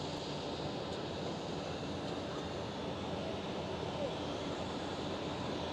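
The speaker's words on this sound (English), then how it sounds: "It's a queen of the skies. KLM Cargo 747 400 freighter." A KLM Cargo Boeing 747-400 freighter at Amsterdam Schiphol, its engines producing a steady, broad jet roar that stays loud and even throughout, with no talk over it.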